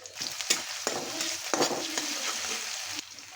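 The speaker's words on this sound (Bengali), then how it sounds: "তেলে দিয়ে দেবো সাত মতো নুন ভালো করে দুই মিনিট ভাজিয়ে নিব" Chopped onion fries in hot oil with salt, a loud, close crackling sizzle with repeated scraping and stirring knocks against the pan, no speech.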